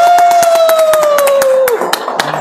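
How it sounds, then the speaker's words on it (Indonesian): A small group clapping along at an Ancol marine show, quick regular claps over a sustained whistling tone that slides downward, then the clapping carries on loosely after the tone stops. "Kita tepuk tangan ya, oke."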